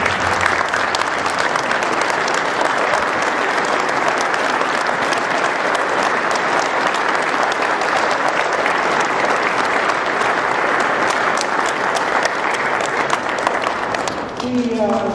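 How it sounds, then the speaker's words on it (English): A council reorganization meeting audience in Bound Brook, New Jersey, rises for a sustained round of applause, dense and steady for about fifteen seconds before tapering at the end. "We could rise and give a round of applause."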